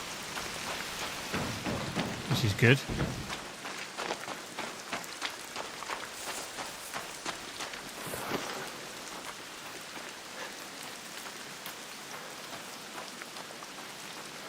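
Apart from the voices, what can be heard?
rain on metal sound effect in video game Arc Raiders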